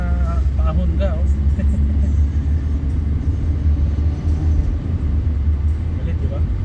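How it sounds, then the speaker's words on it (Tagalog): A 2023 Honda BR-V's engine labors up the steep Antipolo Zigzag Road in low gear, giving a constant loud, deep rumble from inside the cabin with a voice talking over it. "Parang ramdam ng makina na paahon ka"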